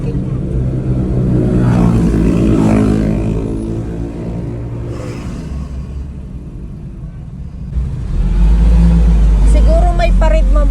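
Busy road traffic rumbles past in the Philippines, a continuous loud engine drone that swells as vehicles accelerate by close at hand, with people talking over it.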